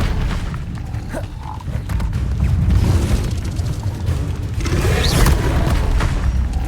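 Fiery spell blasts cast in Hogwarts Legacy, a deep rumbling boom that swells and rolls on for several seconds, loud and dense with layered low thumps and no talking over it.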